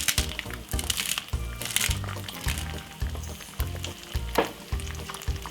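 An egg sizzles and crackles in a pan on a stove set to low for a breakfast egg sandwich, a close, steady frying hiss with sharp pops and faint background sounds.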